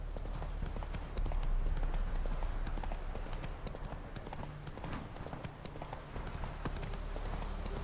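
In The Witcher 3, a horse gallops with rapid, rhythmic hoof clip-clops on hard ground, close and steady for several seconds over a low rumble, with faint voices in the background.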